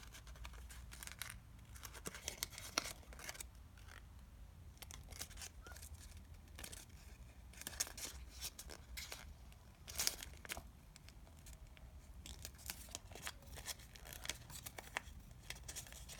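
Sheet paper being folded, creased and squashed into an origami caterpillar, with repeated crinkling, rustling and sharp crunchy creases in irregular bursts, close and fairly quiet, no talking.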